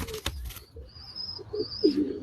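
Soft, low coos of a Shahjahani pigeon rise and fall near the end, with a sharp click early on and a thin high chirp running across the middle.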